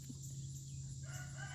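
Faint chickens cluck and murmur at a distance over a steady low hum, quiet and brief, with no one speaking.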